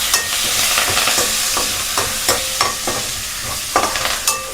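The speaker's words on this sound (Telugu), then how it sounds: "అవి కొంచెం చిట్టపట్టమన్నాక కొంచెం కరివేపాకు కూడా వేసేసి వేయించేసుకోండి" Curry leaves frying in a little oil, spluttering and crackling loudly with sharp pops over a steady sizzle, with occasional stirring scrapes, close up and without talk.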